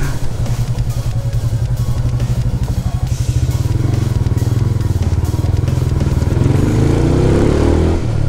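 A hot motorcycle engine running on a village street, a loud close steady putter with rapid firing pulses and mechanical clatter, rising slightly in pitch toward the end, with no talk over it.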